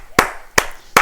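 Three sharp, isolated claps arrive at uneven intervals, each a short bright smack with a slight tail, lagging and choppy as they come through an online call.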